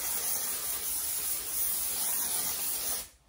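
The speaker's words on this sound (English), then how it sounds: "So I just spray all around." A spray bottle misting wig hair all around, a long continuous hissing spray held close and loud before cutting off abruptly near the end, no talking.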